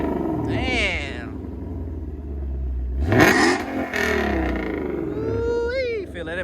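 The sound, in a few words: Shelby GT500 revving with catless race pipes exhaust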